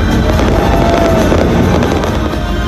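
Dense, continuous crackling and popping of Chinese New Year fireworks in Binondo's Chinatown, Manila, fills the air, loud and steady with no pauses throughout.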